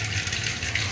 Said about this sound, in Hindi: सॉरी क्या पानी की आवाज़ आ रही थी यहाँ